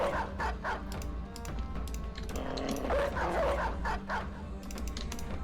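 Dogs bark repeatedly in a poaching-themed video game, a steady stream of sharp yaps and woofs over a constant low rumble of game ambience, moderately close with no talking.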